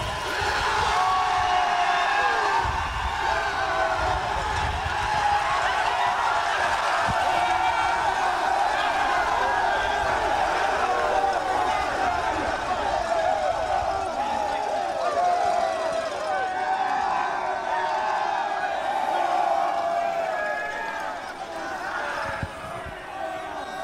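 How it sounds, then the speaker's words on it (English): A large crowd roars and cheers at the 2023 CJFL Canadian Bowl for the champion Saskatoon Hilltops, loud and sustained with an announcer's voice over it, easing off slightly at the end. "One more round of applause."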